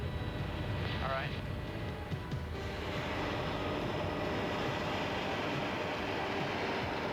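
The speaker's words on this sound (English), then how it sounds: "The single-engine Pinto is not particularly fast, but very maneuverable, as you'll find when Mike insists" A Temco TT-1 Super Pinto single-engine jet trainer in flight, a steady loud broadband roar heard from close by without change, with brief radio-like tones early on.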